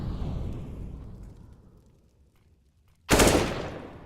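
Gunfire in a Counter-Strike match on the Cache map: a rapid burst fades out, a near-silent pause follows, then a sharp, loud shot rings out with a decaying echo.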